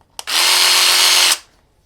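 A loud, steady motorized buzz from a massage gun runs for about a second, starting and stopping abruptly, close by with no talking.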